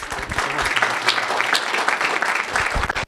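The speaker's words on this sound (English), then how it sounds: "Let's give applause." A room full of listeners applauds at the end of a design business talk, dense continuous clapping that cuts off abruptly at the close.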